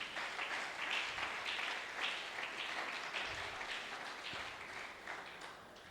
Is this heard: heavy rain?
no